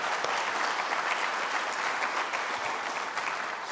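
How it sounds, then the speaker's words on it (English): A room of people at a county business event gives a chamber of commerce team a round of applause: dense, continuous clapping at an even, fairly loud level throughout. "So if we could give them a quick round of applause."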